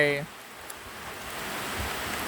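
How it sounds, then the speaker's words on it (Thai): Heavy rain drums steadily on a temporary roof, a dense, even hiss that holds close and loud throughout after a brief voice at the very start. "ฝนตกสาดนะครับ ผมฝนตกแรงนะครับ"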